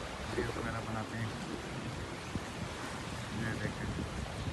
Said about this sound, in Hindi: ये हांगकांग की सुबह है, जब बारिश होती है या तूफान वगैरह आता है, कमाल होती है।